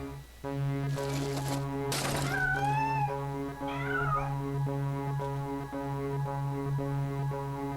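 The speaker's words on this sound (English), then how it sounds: "we have a cat to deal with" A cat meows several times in the video game Bad Mojo Redux, the rising, wavering cries close and clear over a steady humming game music bed.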